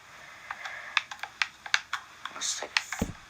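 Quick bursts of computer keyboard typing, a dozen or so close, crisp key clicks in an uneven rhythm, ending with a heavier thump.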